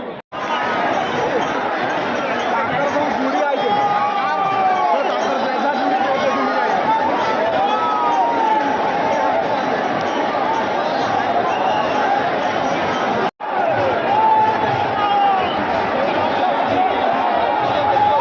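Dense crowd thronging a street during the Rath Yatra chariot festival in Bangalore, a continuous loud babble of many voices close around with shuffling and scattered clinks.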